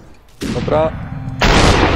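Gunfire in the video game SUPERHOT: two loud, abrupt broadband blasts about a second apart, the second sustaining longer, with a brief spoken word between them.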